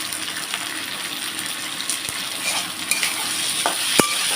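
Ginger-garlic paste frying with chopped tomatoes in a pan while being stirred, a steady soft sizzle with occasional scrapes and clicks of a spoon against the pan, close and moderately loud.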